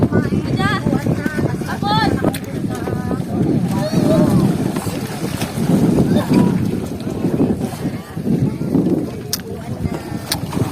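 Strong wind roars and buffets the microphone continuously, mixed with rushing water and boat noise, while people talk over it, at sea off Caramoan, Philippines.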